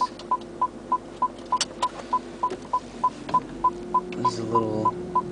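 A car's parking sensor sounds a steady train of short beeps, about three per second, close and clear over a low engine hum, with faint clicks and a brief rustle near the end.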